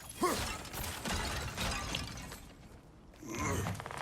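Objects smashing apart in God of War Ragnarok, a burst of breaking debris and crunching impacts with mechanical clatter, loud at first and then trailing off, with game ambience underneath and no voices.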